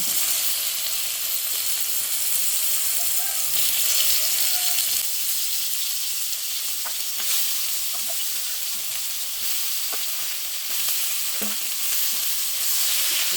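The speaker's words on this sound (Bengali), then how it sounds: "এই তেলে এখন আমি পেঁপে আর আলু অল্প ভেজে নিতে হবে" Papaya and potato pieces fry in oil in a pan, giving a steady, loud sizzle with faint stirring scrapes and occasional crackles throughout, and no voices.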